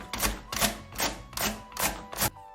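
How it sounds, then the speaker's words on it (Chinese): Carrots shredded on a handheld grater board, six rhythmic rasping strokes about every half second, each a broad scraping burst, close and clear with no talk, while preparing vegetables for curry chicken fried rice. "咱们切胡萝卜丝呀，直接用这个擦丝板就行，更快一点"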